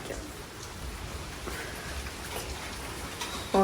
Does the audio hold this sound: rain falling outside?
yes